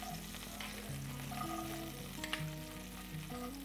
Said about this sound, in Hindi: ये हमने डाल दिया चॉप प्याज और हमें इस तरह से सौते कर लेना है